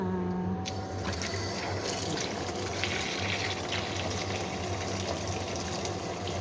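Tap water pours steadily into a sink or basin where vegetables are being soaked in water and vinegar for cleaning, a continuous close rushing fill with no voices.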